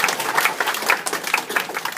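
An audience in a lecture hall at Tokyo Institute of Technology claps briefly, a short burst of dense hand claps at moderate distance.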